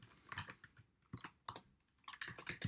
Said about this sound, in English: it seems kind of weird to be typing these in